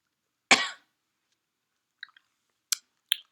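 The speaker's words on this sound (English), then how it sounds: "That was a real cough" A single sharp, close cough from a person with a winter cold, followed by a few faint, soft mouth and chewing clicks from candy, with silence in between.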